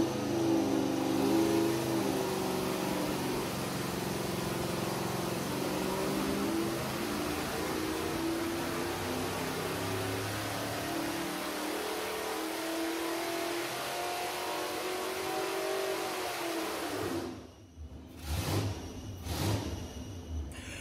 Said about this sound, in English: everything's up on the dyno, ready to run